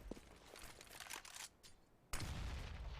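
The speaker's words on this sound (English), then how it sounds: "Good by Widow to take down Reversive, and also a leg shot on Otto" Gunfire during a Counter-Strike match, a quick run of faint sharp shots and bursts broken by a short lull, then a heavier rumbling burst.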